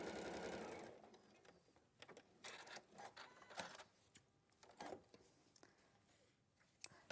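A sewing machine stitches small fabric pieces together in short, uneven bursts of rapid mechanical chatter, near and fairly quiet, with pauses between runs.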